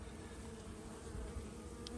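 A dense, steady hum of honey bees rises from a full hive frame of emerging AMM bees, a close, continuous buzzing drone with no talking over it.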